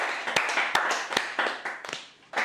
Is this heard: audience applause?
yes